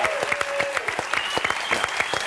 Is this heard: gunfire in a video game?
no